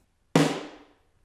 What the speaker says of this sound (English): We're gonna start with a medium overhead room microphone. It was about 6 feet away from the drum